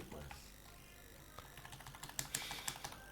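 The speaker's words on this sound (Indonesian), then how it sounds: "Mengetik makalah." Fingers typing on a computer keyboard, a quiet irregular patter of key clicks that grows busier toward the end, with faint talk in the background.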